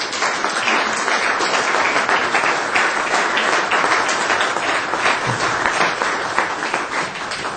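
A Francophone general assembly breaks into sustained applause as a decision is adopted by acclamation, with many hands clapping densely and evenly throughout the hall.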